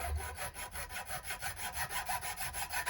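An 1/8 inch file is drawn back and forth across the front of a metal trap to square it up. The rasping strokes repeat in a steady rhythm, close and moderately loud, with no talk.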